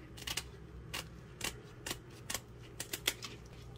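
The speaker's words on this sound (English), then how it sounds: "Okay, so I use scissors, super easy, super fast." Scissors snipping the fins off a freshly caught surf perch, about a dozen quick, sharp close-up cuts in an uneven rhythm with short pauses between them, no talking.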